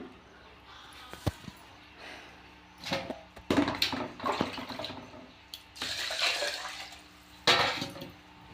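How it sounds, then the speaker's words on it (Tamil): Water is poured into a pressure cooker to cook toor dal, in rice-washing water. It comes as intermittent splashes and gushes of varying strength, with quiet gaps between the pours. "எனக்கு வந்து தேவையான தண்ணியெலாம் ஊற்றிக்கிட்டேன்"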